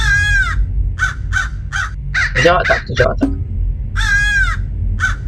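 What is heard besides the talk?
raven cawing in the video game Hello Neighbor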